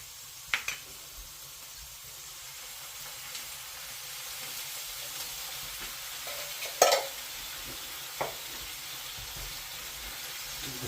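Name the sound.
chopped tomatoes sizzling and stirred in beef curry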